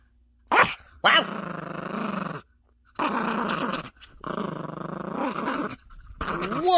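A Yorkie puppy growls fiercely in long, rumbling bursts broken by short pauses and a couple of sharp yaps while tugging at a toy, loud and close.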